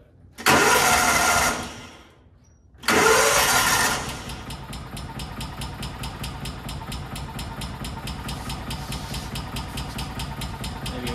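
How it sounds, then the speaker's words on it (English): Kawasaki Mule 550 utility vehicle from a barn find, running on half choke at its first start: two loud bursts of cranking and revving, then a steady, rapidly pulsing idle. "It's idling though. That's a start."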